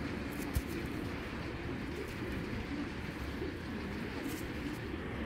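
A large grizzle female pigeon coos steadily amid dense, constant background noise, the low murmuring calls blending into a continuous wash with no clear breaks.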